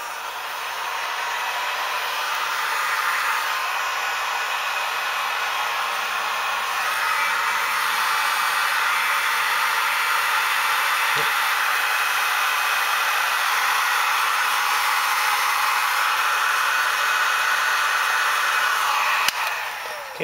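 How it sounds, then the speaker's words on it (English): A heat gun runs steadily for about twenty seconds, drying freshly painted parts of a 1/1000 AMT plastic model kit, a continuous close, loud airy hiss and whir with no talking. "give it a little quick dry up here with our heat gun"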